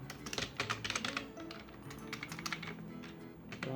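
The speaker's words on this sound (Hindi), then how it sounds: "मैं लिख देता हूँ राम" Rapid clicking keystrokes on a computer keyboard come close and clear as text is typed into MS Word, with brief pauses between bursts and no voices.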